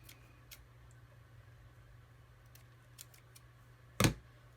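A single sharp scissor snip cuts through ribbon for a simple bow near the end of an otherwise quiet stretch, close and crisp.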